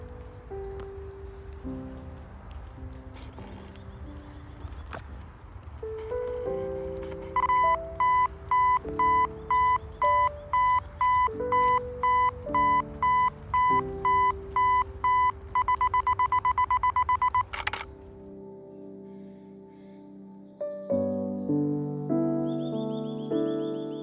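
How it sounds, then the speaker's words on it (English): A camera self-timer in a muddy woodland gives a steady run of short, evenly spaced beeps that speed up over several seconds and then stop, over soft rustling outdoor ambience. "we'll use the timer, and away we go"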